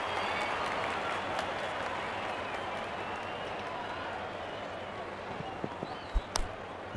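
Crowd applause and cheering in the Real Cricket 24 video game after a six in a Nepal vs UAE match, a steady broad wash of clapping filling the stadium, with a couple of brief thumps near the end.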